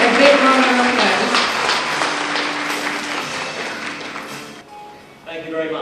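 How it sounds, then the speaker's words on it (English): A conference audience gives speaker Kelvin King a round of applause, with sustained clapping from many hands filling the hall before fading, and a voice speaking over it at the end. "Let's give it a big round of applause."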